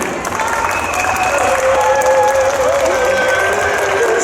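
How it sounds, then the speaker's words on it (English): A Comic Con audience in Antwerp claps steadily to welcome a guest onto the stage, a dense, even wash of applause with a few cheers, loud and sustained throughout. "give a warm applause for Mr."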